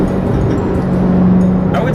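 A Corvette Z06's engine holds a steady, loud low rumble throughout, with a voice talking over it.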